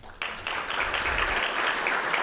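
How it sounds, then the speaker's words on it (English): Audience applause at a regional biosolids symposium, starting sharply and holding as a steady, dense wash of many hands clapping at moderate volume. "let's have a round of applause."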